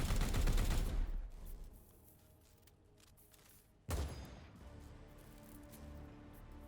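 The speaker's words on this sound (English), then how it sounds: "Now this should trigger our assassin supporting fire" Supporting rifle fire from a Vindicare assassin in the tabletop-style video game Daemonhunters: a loud, roaring burst of gunfire, a quieter lull, then a second sharp, heavy blast followed by a lingering rumble.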